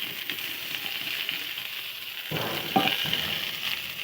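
Potato pieces and kuche fish (eel) frying in a pan, a steady close sizzle with a louder burst of crackling about halfway through as the fish goes in.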